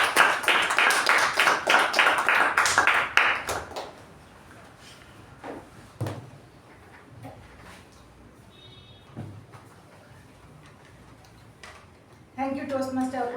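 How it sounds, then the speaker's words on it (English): A short burst of clapping from a small online Toastmasters meeting audience, rapid and close for a few seconds, then near silence with scattered taps and a voice starting at the end. "Please welcome, with a huge round of applause, our general evaluator for the day"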